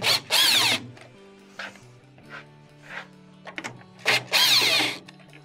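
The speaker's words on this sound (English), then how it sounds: "take out these two Phillips screws that are attaching it" A power tool backs out Phillips screws from the impact switch of a Frigidaire washer, with two loud whirring bursts at the start and end and softer, shorter spins in between, separated by quiet pauses.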